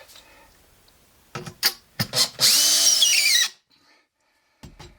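A few short drill bursts into a hard rock slab at slower speed, then a loud sustained drilling whine for about a second, ending abruptly, followed by faint mechanical clicks.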